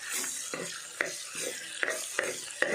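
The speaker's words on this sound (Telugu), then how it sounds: "ఇది కొంచెం బ్రౌన్ కలర్లో వచ్చే వరకు ఇలా వేయించాలి" Vegetable pieces with ginger-garlic paste stirred and frying in a pan for a sambar, a steady close sizzle broken by several sharp scrapes and clicks of a spoon against the pan, with no speech.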